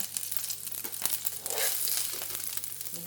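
Bacon sizzling and crackling in a pan while making asparagus carbonara, a steady close frying hiss with scattered pops and some stirring, no talking.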